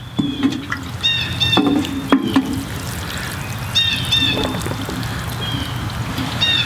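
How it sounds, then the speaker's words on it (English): Water is poured onto garden soil over newly sown Martin House gourd seeds, giving a steady soft trickle and splash heard close up, with faint bird chirps in the background and no talking. "water it in real nice"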